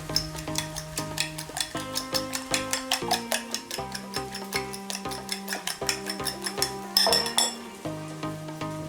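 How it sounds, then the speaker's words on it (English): A fork beats eggs in a bowl, making quick, regular clinking taps that repeat steadily and close, over background music. "Whisk the eggs, should I say, or beat the eggs."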